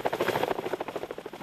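A military helicopter flies nearby during reservist rescue training at a mock Iraqi town, its rotor thumping in a fast, steady beat with no voices over it.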